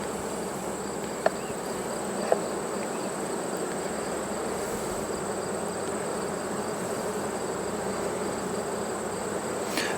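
Honeybees at a storm-damaged hive make a dense, steady buzz that carries evenly throughout, close and loud, with a couple of faint ticks and no voices.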